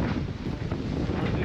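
Strong wind of about 35 knots buffeting a racing sailboat beating upwind off Iceland: a dense, roaring rumble of gusts and spray, steady and loud throughout, without speech.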